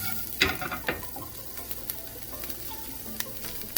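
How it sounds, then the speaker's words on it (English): Shrimp sautéing in a pan, a soft crackling sizzle punctuated by sharp pops and spits, with scattered clicks of stirring over a low steady hiss, no voices. "I'm just giving it a light saute, okay?"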